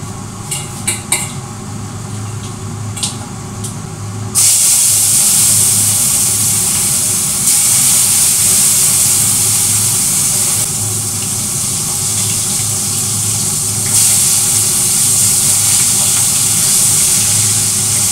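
Pabda and bata fish frying in hot oil in a wok, a loud, steady broadband sizzle that starts abruptly after a few quieter seconds of faint clinks and continues without pause.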